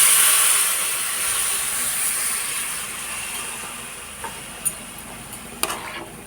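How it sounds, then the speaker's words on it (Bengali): Cold water poured into a hot cooking pan in a home kitchen, a loud sizzling hiss that slowly fades, followed by a few light clinks and taps. "এই পর্যায়ে আমি দিয়ে দেব জল, কিছু জল। এখানে কিন্তু আমি ঠান্ডা জলই দিচ্ছি।"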